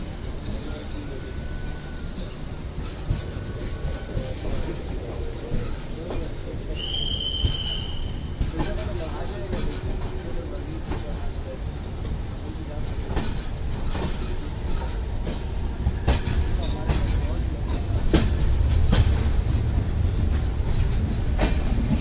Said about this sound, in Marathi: पनवेलवरून गाडी निघाली आहे